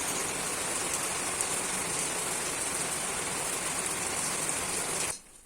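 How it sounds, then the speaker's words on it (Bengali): Steady, dense roar of heavy rain pouring onto surfaces, loud and continuous, cutting off abruptly just before the end. "আজকে বৃষ্টিটাও প্রচণ্ড হচ্ছে তো কীরকম দুপুরে বৃষ্টি হচ্ছে একটু শোনাও আওয়াজটা"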